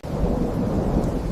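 A stormy outdoor scene carries a dense, rumbling roar of thunder mixed with heavy rain, loud and continuous throughout with no voices.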